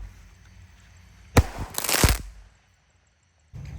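A Golden Bridge firework goes off in a burst of sharp cracks and crackling pops over about a second, then a brief silence before noise resumes.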